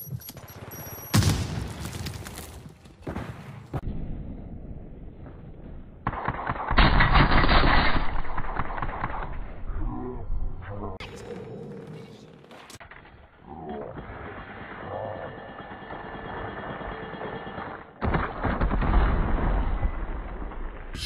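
Gunfire in Call of Duty: bursts of loud automatic fire and shots come in clusters across the clip, with louder volleys near the start, middle and end, no talk over them.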